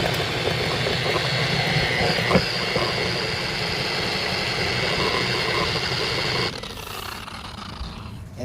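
A pad washer spins with a steady, droning whir that holds through most of the clip, then drops off sharply near the end as it slows.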